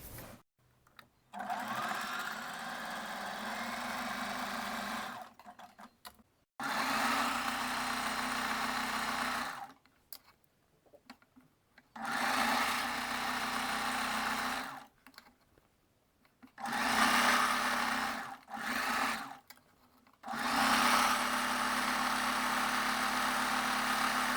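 A sewing machine stitches fabric in several bursts of a few seconds each, a close steady whirring drone broken by short silent pauses between runs.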